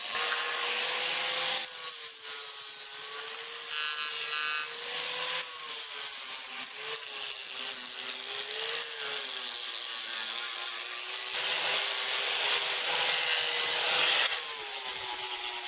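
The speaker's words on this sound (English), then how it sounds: "comes back with his little 4-inch sander and does all the cleanup work" A small 4-inch sander does cleanup work on a log at a log-building yard, a steady continuous grinding whir that holds at a fairly constant level for about fifteen seconds and swells slightly louder near the end, with no voices.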